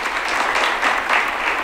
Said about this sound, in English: Studio clap for this guy.